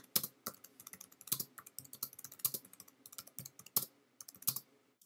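Close, crisp clatter of typing on a computer keyboard while entering Python code, irregular bursts of keystrokes with short gaps and occasional heavier key hits.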